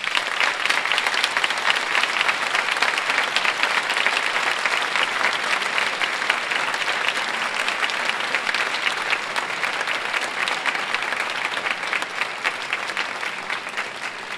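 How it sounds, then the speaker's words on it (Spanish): Steady, dense applause from a concert audience at a music band competition, honouring the organisers. It holds loud and even for the whole stretch, with no talking. "Un aplauso para ellos."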